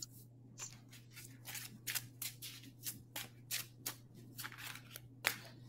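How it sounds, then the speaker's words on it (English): Tarot cards are shuffled close up in quiet bursts of soft riffling and flicking, with a few sharper snaps, over a low steady hum. "There's a lot of shuffling going on."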